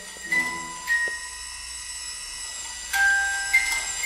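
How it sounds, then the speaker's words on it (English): Electronic bell-like dings sounding inside an elementary school doorway, a few clear tonal chimes with ringing tails, separated by a pause and then two more tones. "Ding, it's bell ding."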